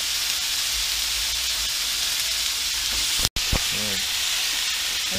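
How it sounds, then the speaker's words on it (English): Beef strips and browned fresh oyster mushrooms sizzle steadily in a hot pan, a constant close frying hiss broken by a brief clatter of stirring near the end. "Let's throw in the stir-fry beef. Get that mixed in."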